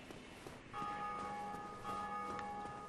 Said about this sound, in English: You can actually hear when other players ring a bell of awakening